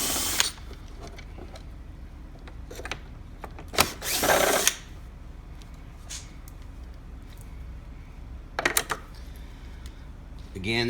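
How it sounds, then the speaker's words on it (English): A power driver loosens T15 Torx screws on a Chevy Silverado tow mirror: two short, close whirring bursts separated by quiet stretches of light handling and clicking. "Now we've got some T15s we can loosen."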